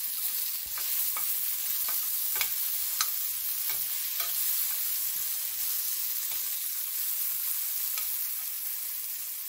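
Onion and tomato sauté in a pan with a continuous soft sizzle, punctuated by repeated light scrapes and taps of a spoon stirring, close and moderately loud, without talk.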